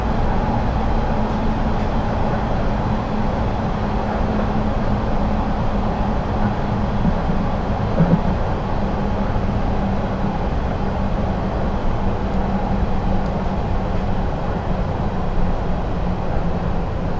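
A Metropolitan Line train in Train Simulator 2020 runs steadily toward Finchley Road, a continuous low rumble and rail drone holding at an even, moderately loud level throughout with no voices.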